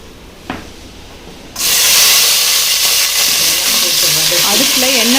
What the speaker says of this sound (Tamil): அடுப்பில் எண்ணெய் ஊற்றி இப்போ அவரைக்காய் போட்டுருக்கீங்க